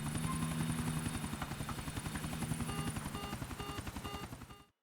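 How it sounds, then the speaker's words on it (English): A hovering helicopter in GTA IV close to the ground, its loud rhythmic rotor chop steady throughout while repeated electronic proximity beeps sound in regular bursts over it, cutting off abruptly at the end. "I forgot the helicopters beep when you're close to the ground in this game"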